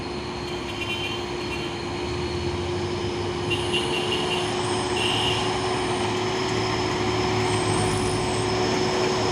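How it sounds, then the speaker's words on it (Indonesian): A JP red-tailed CPO tanker truck grinds up the Bukit Kodok hill climb, its heavy engine a loud, steady drone that holds without a break, with no voices. "JP atau pantat merah melewati tanjakan Bukit Korok."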